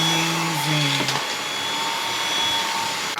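A Dyson V8 Absolute cordless stick vacuum runs steadily with a high-pitched whine and airy rush, close and loud throughout, its tone dipping briefly near the start.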